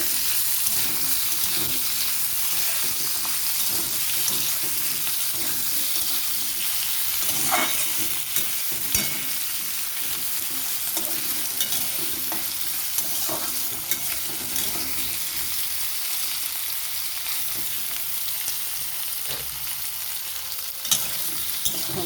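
Potatoes fry in a pan for a Bengali poppy-seed and onion-greens dish, a continuous close sizzle lasting a while, with occasional small clatters from stirring.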